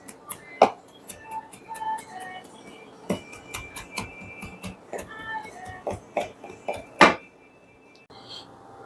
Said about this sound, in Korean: 그리고 대패 삼겹살 300g을 다져줍니다.